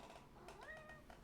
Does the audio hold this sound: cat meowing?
yes